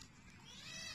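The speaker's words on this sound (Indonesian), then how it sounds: "ada bunyi kucing. Kucing bergaduh. Anak kucing." Kittens fighting and meowing nearby during a durian tasting in a village setting, a faint, thin cry rising toward the end over a quiet, hissy background, with no talk.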